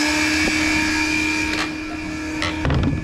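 A CNC machine jogged by hand cuts a pool cue, producing a steady motor whine with brief scraping bursts as the tool bites, close and loud with no talking.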